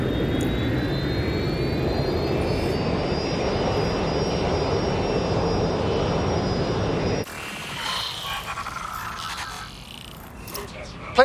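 Jet plane flying in the Watch Dogs Legion video game, a steady loud engine roar with a rising whine that cuts off abruptly, followed by quieter game sounds.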